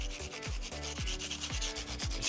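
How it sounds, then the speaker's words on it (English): Fine 220-grit sandpaper rubbing along the fret ends of a guitar neck, steady back-and-forth scraping in regular strokes of about half a second, close and fairly quiet, with no voices. "take some 220 grit, the really fine stuff, and at an angle, sand those off until it's comfortable"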